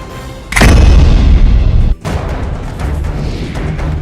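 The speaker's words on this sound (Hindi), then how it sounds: "हाथापाई के बीच हवाई फायरिंग" Gunshots fired into the air during a scuffle in Bulandshahr, Uttar Pradesh: one loud, sharp blast that booms and lingers for over a second, followed by a softer crack and ongoing rough background noise.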